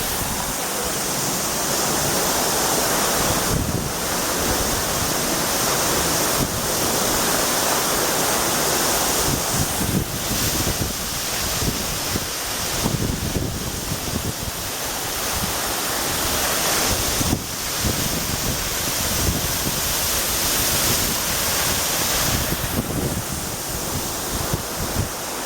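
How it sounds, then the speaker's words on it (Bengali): Waterfall at Cherrapunji, Meghalaya, with water dropping from a great height, a loud, steady broadband roar of falling water that holds unbroken for the whole stretch, with gusts of wind buffeting the microphone and no voices. "এটা ওয়াটারফল সবচেয়ে হায়েস্ট ওয়াটারফল, উপর থেকে একদম জলটা পড়ছে নিচে"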